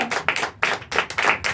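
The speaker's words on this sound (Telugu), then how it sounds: "చేతులు ఉన్నవారు ఒకసారి గట్టిగా చప్పట్లు కొడదామా?" Worship congregation clapping hands loudly in bursts of sharp claps, a few rhythmic groups close and energetic.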